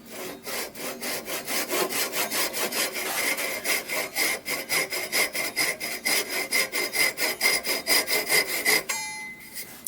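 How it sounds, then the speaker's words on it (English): Hand sawing into a wooden whistle on a lathe project, cutting the notch: a steady rhythmic series of about thirty rasping back-and-forth strokes, close and moderately loud, ending in a brief scrape. "I'm going to cut the hole for the notch, which is actually going to make the whistle"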